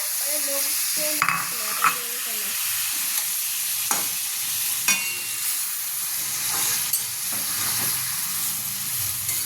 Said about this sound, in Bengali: এবার আমাদের ওই হলুদ গুঁড়ো আর নুন দিয়ে মাখানো লোটে মাছটাকে দিয়ে দিতে হবে কড়াতে